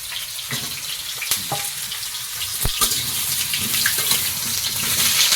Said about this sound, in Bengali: কড়াইতে তেল দিয়ে প্রথমে আলুগুলো ভেজে নেব